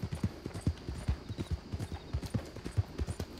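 Horses gallop past, a quick run of hoofbeats thudding in an uneven rapid rhythm, moderately close, with no talking over them.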